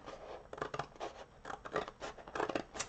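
Scissors cut through cereal box cardboard in quick, close snips that repeat in an uneven rhythm, each one a crisp scratchy slice heard clearly on its own.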